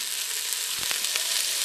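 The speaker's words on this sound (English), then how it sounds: "Nice little sizzle sound there." Vegetables hitting hot olive oil in a soup pot while making turkey noodle soup, giving a steady close hiss of frying with a couple of brief louder crackles near the middle, no voices.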